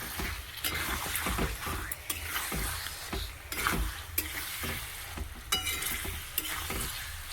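Chicken sautéing with cumin and chili powder gives a steady close sizzle and frying hiss, broken by repeated scrapes and stirs of a spoon against the pan.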